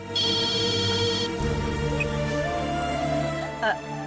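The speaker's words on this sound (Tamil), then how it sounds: "போன் பண்றா. எடுத்து பேசுமா." A phone in a home scene from a Tamil TV serial rings with an incoming call: bright electronic ringtone tones repeat steadily, then shift into a softer melodic pattern with low tones underneath.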